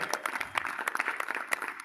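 A crowd claps in welcome for the chief guest at an International Yoga Day gathering in a temple, scattered and lively hand claps rising and falling over about two seconds.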